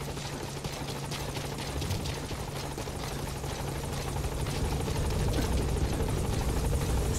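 Support helicopter in Metal Gear Solid V hovering at a landing zone: a loud, steady rotor chop with a low engine drone that holds and swells slightly, close by and alone with no talk.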